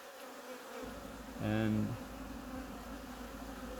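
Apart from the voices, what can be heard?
honey bees buzzing around an opened hive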